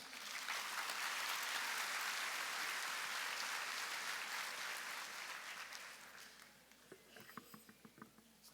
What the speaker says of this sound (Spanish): Recibamos al doctor Alfredo Rodríguez Neira con un fuerte aplauso.